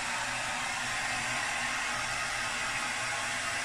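A handheld hair blow dryer blows on hair with a steady, close, airy whoosh that holds an even level throughout, with no voices.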